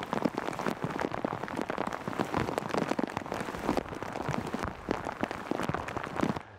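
Rain pours onto a river and a fishing boat on a hot, rainy day on the Mississippi, a dense, loud, even hiss of drops pattering close by without a break.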